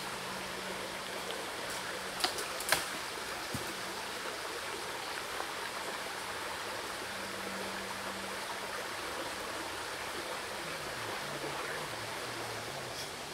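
A river flows in a steady, faint broadband rush outdoors, with a few brief knocks early on and a low hum running underneath.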